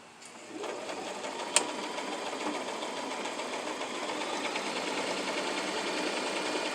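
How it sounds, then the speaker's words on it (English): Sewing machine stitching across the top of a fabric face mask hums with rapid, even mechanical rattling, close and steady throughout after a brief start. "I'm going to sew across the top to keep it in place."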